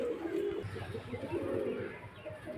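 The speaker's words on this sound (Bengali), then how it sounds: "এই যে মাদি পায়রা বিস্কুট কালার আর এই যে পাউডার নর পায়রা" Pigeons, a biscuit-coloured female and a powder male, give a short low coo up close against a faint murmur of background noise.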